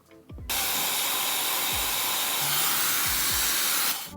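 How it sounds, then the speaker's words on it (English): A blow dryer on its cold setting switches on with a click and roars in a steady, close airy hiss for several seconds before cutting off, with faint clicks and handling noises around it. "you're gonna take your blow dryer and put it on cold."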